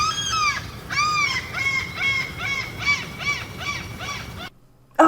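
Several bird calls, honking goose-like cries repeated in a steady series of about eight calls over a low rumbling background, ending in a brief louder burst; no talk.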